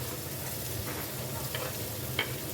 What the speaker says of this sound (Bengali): এবার এই তেলের মধ্যে আমি দিয়ে দিলাম পেঁয়াজ কুচি